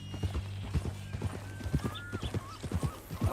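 A horse in Red Dead Redemption 2 clip-clops along at a steady walking rhythm, hooves close and distinct, with faint background ambience and no talk.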